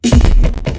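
Reverse kick drum sample, a loud, boomy low swell that sweeps up rapidly, holds briefly and cuts off, with a smaller second swell just after.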